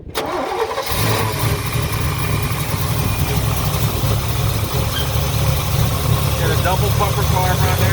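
A 1972 Chevrolet C10 pickup's 383 stroker V8 with headers and dual exhaust cranks briefly, catches and settles into a loud, steady, rumbling idle, with people talking over it.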